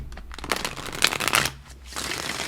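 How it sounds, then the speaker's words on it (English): Tarot cards are shuffled by hand in the traditional way, close to the microphone, making a dense, crisp riffling and slapping that rises and falls over a couple of seconds, with no speech. "you're going to pick up the sound of the cards, guys. I'm a traditional shuffler."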